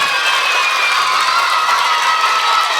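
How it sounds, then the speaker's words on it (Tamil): At a school annual day, a large crowd of children claps and cheers loudly for their teachers, a continuous roar of shouting voices over steady clapping that stays constant throughout. "உங்கள் டீச்சர்ஸ்க்கு எல்லாம் சத்தமாக கைத்தட்டி ஒரு நன்றி சொல்லுங்க பார்க்கலாம்."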